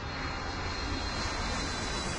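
Airplanes taxi at Atlanta's airport, their engines making a steady, distant, even roar that fills the whole stretch, with no voices.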